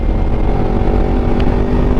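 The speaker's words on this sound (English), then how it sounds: "the previous owner, he switched out the exhaust to a freaking loud ass SE project" A Kawasaki Ninja 250 SE motorcycle fitted with a loud aftermarket SE exhaust idles close by, a steady, loud engine drone with no talking.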